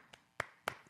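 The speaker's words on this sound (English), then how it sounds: "You're getting applause from me." A single person clapping slowly nearby, three quiet separate claps spaced about a quarter second apart, the last two louder, with no other sound.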